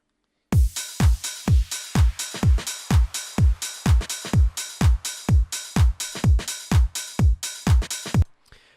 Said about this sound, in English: you're going to have drums at the beginning for DJs for when they're mixing in